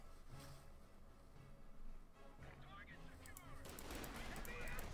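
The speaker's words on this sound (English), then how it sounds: "it's not just the MG34, it's a 50 caliber there on the German command" Machine gun fire in Company of Heroes 2, an MG34 and a .50 caliber on a German command position, distant rattling bursts under a commentator's talk, growing busier toward the end.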